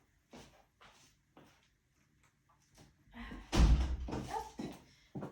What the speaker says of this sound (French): Je referme la porte que j'avais ouverte au chat parce qu'il ne referme pas derrière lui